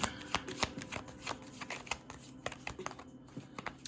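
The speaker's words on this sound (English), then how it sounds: "All right, let me get a couple more cards." Tarot cards being shuffled by hand, a steady run of quick papery riffles and slaps, close and fairly quiet, with no talking over it.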